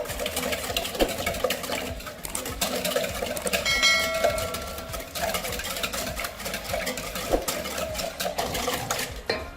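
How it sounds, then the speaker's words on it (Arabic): Instant yeast, sugar and salt being stirred into warm water, a steady scraping and swishing of a utensil in a bowl with a few clinks, close and fairly loud, running throughout. "هدوب الخميره والسكر والملح مع بعض"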